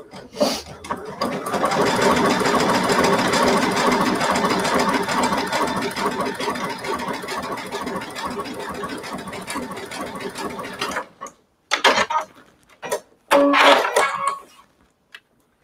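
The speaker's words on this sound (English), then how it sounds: "So I'm just gonna go ahead and stitch one more design." A sewing machine stitches a twin needle design with a loud, steady whirring hum and rapid needle rhythm for about eleven seconds, then stops, followed by a few short bursts of stitching and handling noises.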